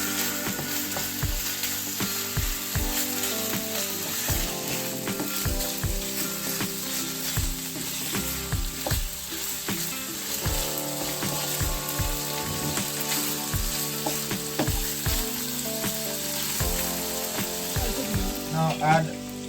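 Pork noodles stir-frying in a pan with ginger paste, a steady sizzle carrying rapid, irregular scraping and clattering strokes of a utensil throughout, close and fairly loud, with no talking.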